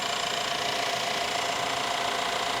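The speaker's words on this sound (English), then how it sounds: "And there you go. You've got a little bit of a knock." A car engine idles with a steady, even drone, a faint rapid ticking knock running through it without pause, with no drive belt fitted.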